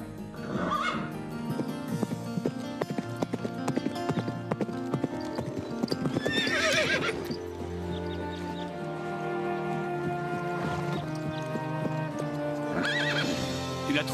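Several horses neigh and whinny loudly while hooves clip-clop steadily throughout, close and busy, with no talk over them.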